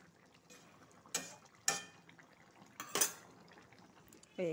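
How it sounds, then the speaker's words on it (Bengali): A metal lid comes off a cooking pot of pointed gourd and soy chunk curry: a few sharp, close metallic clanks and clatters in a quiet kitchen, then a short burst of sizzling at the end. "ঢাকনাটা খুলে দেখব।"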